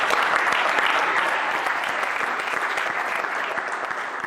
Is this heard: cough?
no